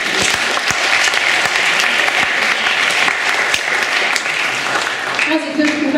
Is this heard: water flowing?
no